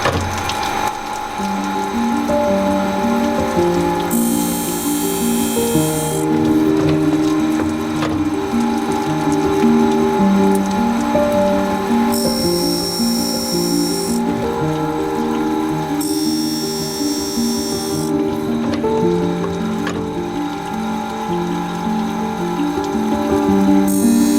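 A saw blade sharpening machine grinds a 48-tooth blade with a steady mechanical ratcheting rhythm and a continuous motor hum, with periodic bursts of brighter grinding noise, loud and close, no voices.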